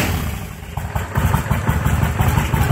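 A 1996 Kawasaki Vulcan 1500 Classic motorcycle on stock pipes idles close by with a deep, loping, uneven thump that holds steady throughout.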